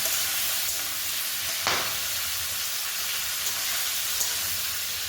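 Prawns frying lightly in a pan, giving a steady close sizzle and hiss with one brief scrape of stirring partway through, without speech.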